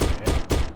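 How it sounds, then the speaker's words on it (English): Repeated bolt shots fired by an enemy in a Doom mod, three punchy, loud blasts in quick succession, evenly spaced with no talk. "he's like shooting multiple bolts"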